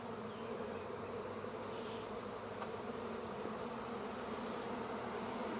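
A swarm of honey bees buzzes in a steady, dense drone as they crowd into a hive entrance, close and continuous throughout with no talk.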